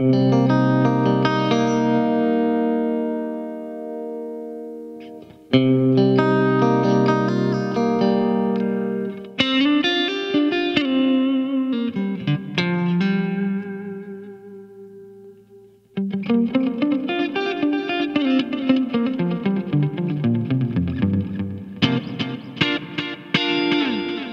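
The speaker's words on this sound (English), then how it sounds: "It's all right, a clean sound, bit of compressor, compression." Clean electric guitar with a compressed, even sound plays sustained chords and ringing single notes, separated by short pauses, with no talking.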